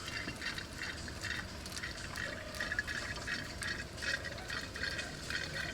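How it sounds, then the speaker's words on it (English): DEF fluid pours into the tank of a 2012 BMW E70 35d, giving a quiet, steady gurgling fill with faint bubbling and trickling throughout, close by and with no speech. "The tank is filling now."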